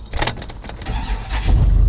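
A gasoline 8.1-liter V8 truck engine starts up at close range: keys jangle and a short crank give way to a deep, swelling rumble as the big motor catches and settles into a loud idle, with no talking.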